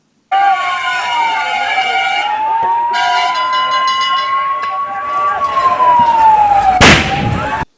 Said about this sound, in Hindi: मौके पर फायर ब्रिगेड की एक के बाद एक दंदनाती हुई गाड़ियां पहुंच गई।